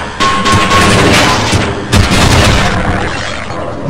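Gunfire in the classic PC shooter Half-Life, with repeated loud, close shots and booming impacts filling the scene, one sharp burst standing out near the end and no voices.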